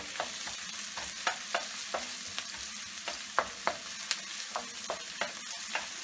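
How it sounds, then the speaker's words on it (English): Chopped onion sautéing in a pan on the stove, a steady soft sizzle broken by regular sharp clicks and scrapes of stirring, close and alone without voices. "We add it to the pan, and what I'm going to do now is start sauteing it."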